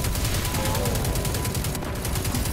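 Continuous gunfire in a Destiny 2 campaign fight: a dense, steady rattle of rapid shots, loud and close, filling the whole short stretch.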